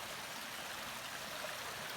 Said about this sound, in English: set up right by the creek, so we're gonna hear this all night long